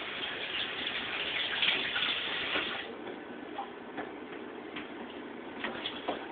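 Tap water runs steadily while cilantro is rinsed in a kitchen, a soft continuous splashing hiss with occasional small clicks and drips, fairly quiet and close.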